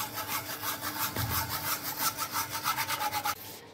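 A spoon stirs milk continuously in a pan as it thickens for nolen gur kulfi, making quick, rhythmic scraping strokes, several per second, close by, before stopping abruptly at the end.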